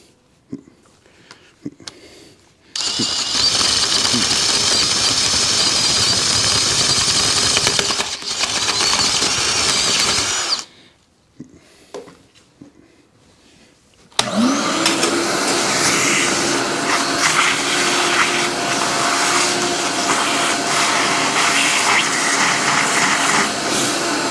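A power drill with a spade bit counterbores a hole through a guide jig, two long loud whirring runs separated by a pause, followed by a steady, harsher grinding bore that continues to the end.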